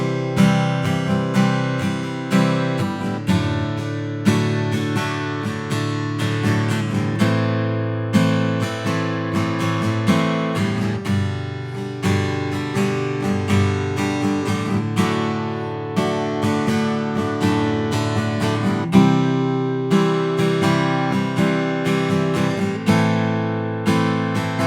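Guitar playing the verse chords of a song, strummed and picked in a steady rhythm with ringing chords over a backing track, no voice.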